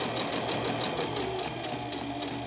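A sewing machine stitching at a fast, even pace, close and continuous for the whole stretch with no pauses.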